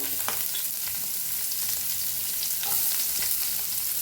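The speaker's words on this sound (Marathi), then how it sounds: "आता कांदा भाजून घेऊया" Onion roasting in a pan with a little oil for a spicy potato curry, giving a steady close sizzle with occasional scrapes and stirring clicks, no talk.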